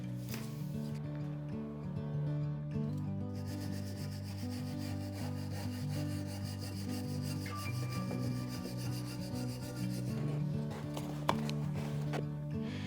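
A brush scrubs rust off an old metal house number sign in steady back-and-forth rasping strokes up close, with a sharp knock near the end.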